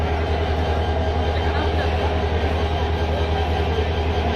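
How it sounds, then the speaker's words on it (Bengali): A commuter train arriving at Sreepur station on the Dhaka–Mymensingh line rumbles steadily and loudly nearby, a continuous low drone of rolling carriages with no voices. "মমিসিং থেকে আরেকটি ট্রেন আসতেছে"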